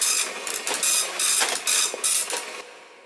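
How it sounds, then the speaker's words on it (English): Dot matrix printer printing: a close, harsh buzzing rasp in several short bursts with brief pauses between them, loud and alone. "Do you remember the dot matrix printer?"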